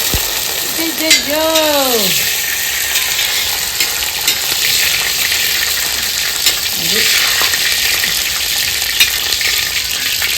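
Raisins fry in a pan for vegetable pulao with a steady, close sizzle and stirring scrapes throughout, while voices talk briefly over it.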